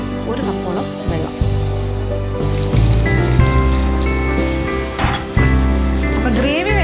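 About a cup of water poured into a chicken makhni gravy, a splashing liquid pour into the pot with light clinks, running beneath continuous talking.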